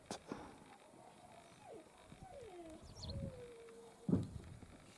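A small migratory wagtail calls outdoors in a village, giving faint thin whistled notes and short chirps at a distance, with a few soft thumps and rustles nearby.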